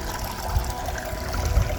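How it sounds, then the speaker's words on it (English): Water from a natural spring in Guadalupe Mountains National Park, Texas, trickles steadily at six gallons a minute, a continuous close, soft wash with a couple of low gurgling bumps and no talk. "This is the natural spring that they found in the area, and it produces 6 gallons of fresh water per minute"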